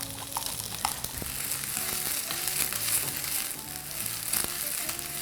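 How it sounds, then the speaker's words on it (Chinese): Steady oily sizzling of a shrimp patty frying in a pan, continuous and close, with faint clinks and a low hum underneath. "接下来我们给它翻面，煎另一面"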